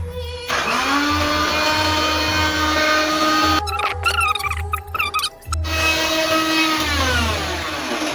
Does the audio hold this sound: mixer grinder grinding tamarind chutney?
yes